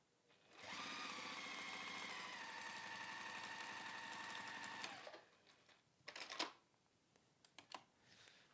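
A sewing machine stitches a seam on a simple crossbody bag, running as one steady, fairly loud whirring burst of fast needle strokes for about four seconds, followed by a few quiet clicks and fabric handling noises.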